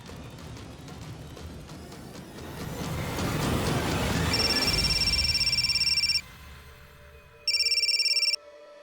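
A telephone rings with a steady electronic trill that stops, then a second burst of ringing follows after a short pause, over a rumbling background.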